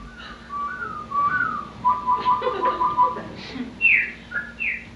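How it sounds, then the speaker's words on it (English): On a late summer night, a mockingbird calls to its mate with a series of clear, whistled chirps and warbling phrases, some rising and some falling, fairly close and alone. "And you can hear a mockingbird calling to its mate."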